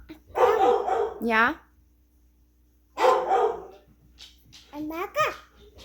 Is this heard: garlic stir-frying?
no